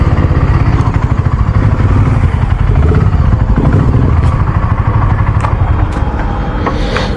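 Steady, loud engine thrum from a BSA Gold Star 650 on the move, close to the rider, with faint clatter near the end and no voices.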